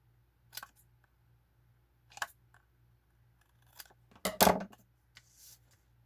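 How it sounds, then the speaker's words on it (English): Scissors trim paper in a few quiet, separate snips spread over several seconds, the last cut the loudest and longest, with near silence between and no talking. "I think I need to trim that down just a little."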